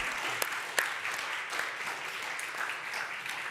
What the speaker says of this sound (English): Oh, we got a clap.